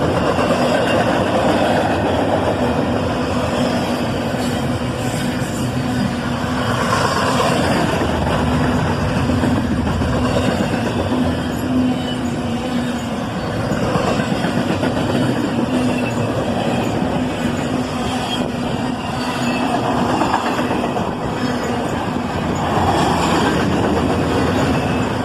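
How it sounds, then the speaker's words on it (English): CSX intermodal freight train with an ES44AC locomotive rolling past close by, a steady loud rumble of wheels and cars with a faint rhythmic clickety-clack and high squeal running throughout, no voices. "there goes that second locomotive, an ES44 ACH"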